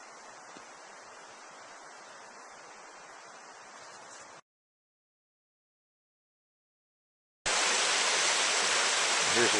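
Roaring water of Flat Creek on a snowy morning, a loud continuous rushing wash, broken by a few seconds of silence before resuming even louder and nearer.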